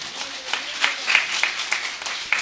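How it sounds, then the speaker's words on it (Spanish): A church congregation in Lircay, Huancavelica, claps hands in praise during a service, with an uneven run of sharp claps over a continuous wash of applause-like noise, fairly close and steady for a few seconds. "Dale palmas al Señor."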